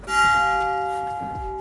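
A single church bell in a Carpathian highland village rings out clearly and then decays slowly, its tone hanging in the air with a long fading hum.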